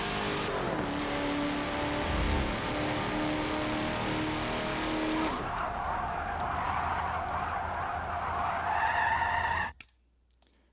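Holden race car in Forza Motorsport 7 slides with loud, sustained tire skidding and squealing over engine noise for several seconds, then cuts off abruptly near the end.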